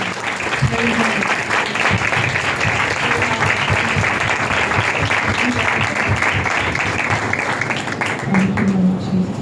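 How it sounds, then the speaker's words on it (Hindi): A church congregation breaks into loud, sustained applause during a sermon, steady crowd clapping throughout with some voices mixed in. "खुदा के कलाम के लिए, उसकी रूह के लिए जोरदार तालियां बजाएं।"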